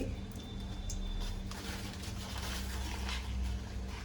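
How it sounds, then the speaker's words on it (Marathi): Two spoons of mustard seeds spluttering in hot oil in a pan while tempering for vermicelli idli: a close, steady sizzle scattered with quick crackling pops, with no talk. "मोहरी चांगली तडतडली का"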